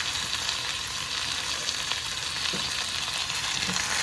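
Chicken, potatoes and carrots being stirred together in a sizzling pan, a steady loud frying hiss with faint scraping and clinks of the spoon throughout, no voices.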